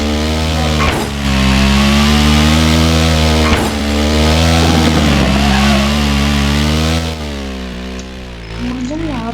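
A 2019 KTM RC 390 motorcycle in the Roblox game Driving Empire gives a steady, loud engine drone whose pitch rises and dips, with a couple of brief gear-shift-like breaks, running continuously throughout.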